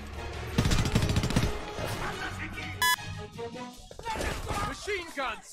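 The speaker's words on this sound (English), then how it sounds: "Machine gun, second floor window." Bursts of machine-gun fire and crashing gunshots in the shooter game Homefront, loud rapid rattling volleys early on and then scattered shots, with in-game voices speaking over the combat.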